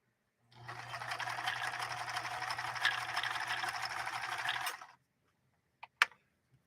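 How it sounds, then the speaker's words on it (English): A Japanese-made Kenmore sewing machine stitches a wide zigzag in one steady, close whirring run of about four seconds, then stops; a couple of short clicks follow. "And now we should be able to lay down that zigzag stitch next to this straight stitch."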